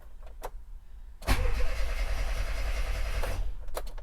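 An Austin Metro with about 6,000 miles, unstarted for years, cranks after a couple of brief clicks, then turns over loudly for about two seconds before cutting off, followed by a few faint clicks.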